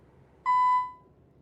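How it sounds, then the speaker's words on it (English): One clean electronic beep, a short steady tone that rises abruptly and fades over about half a second, alone against faint background hiss. "This is beeping."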